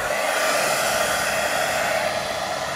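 A 2000-watt hair dryer running at full power, drawing from a portable battery: a loud, steady, unbroken whooshing drone, close by and alone.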